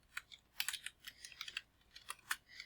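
Quick, irregular key clicks from typing on a computer keyboard while entering text in an HTML editor, sharp and fairly close, in short bursts with small pauses and no talk.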